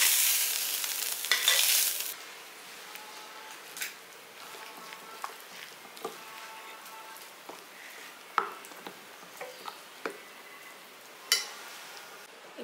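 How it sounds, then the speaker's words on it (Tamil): Grated coconut being sautéed in a pan for bun dosai batter, a brief hiss at first, then a faint low sizzle with scattered spatula taps and scrapes spaced a second or two apart, with no one talking. "தேங்காயை ரொம்ப போட்டு வதக்க வேணாம், இந்த அளவுக்கு வதங்கினா போதும்."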